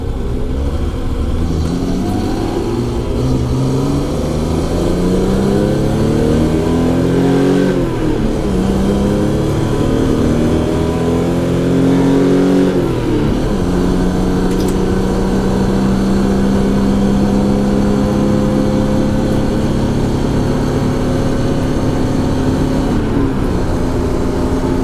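A Datsun 280Z accelerates up to speed, its engine note climbing through the gears in a loud, continuous run with rising revs and brief dips at the shifts, recorded from inside the car with no talking.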